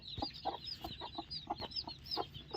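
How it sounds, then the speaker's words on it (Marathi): A hen clucks in short, irregular bursts at a faint, distant level among other farmyard chicken noises, with no talk. "कोंबडी पळाली."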